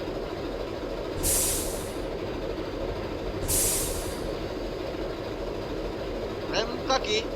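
Two short bursts of air hiss from the hand brake release on a Hino bus in Bus Simulator Indonesia, each about a second long and evenly spaced over a steady low engine idle, then a few faint clicks near the end.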